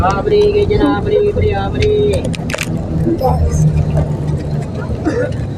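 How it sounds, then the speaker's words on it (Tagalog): Ride inside a moving bus, with a low engine rumble and road noise running under lively close talk and chatter from passengers. "Nasa bus tayo."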